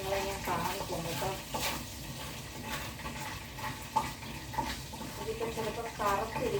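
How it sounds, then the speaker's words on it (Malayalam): A spoon stirring onions and spices sautéing in a pan for fish molee, with a soft continuous sizzle and scraping clinks, and a voice talking over it. "അതൊക്കെ നമുക്കൊന്ന് ഇളക്കി കൊടുക്കാം"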